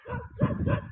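A village dog barks twice in quick succession, short gruff woofs close by on a cold, overcast day, with no talking over them.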